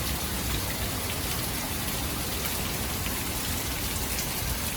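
Steady, dense rain pours down during a storm, an even hiss with no pauses, close and loud throughout.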